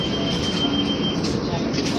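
A New York subway N train in Brooklyn rolls along with a steady loud rumble and faint wheel squeal, heard from inside the car throughout.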